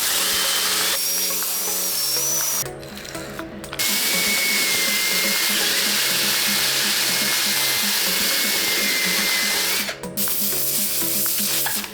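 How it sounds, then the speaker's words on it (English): Power drill spinning a stiff bristle brush against the soles of Nike Air Yeezy 2 Platinum sneakers, a loud, steady whirring scrub that runs nearly throughout with two brief pauses, close up. "Now we have our drill with a stiff bristle brush attachment on the bottoms."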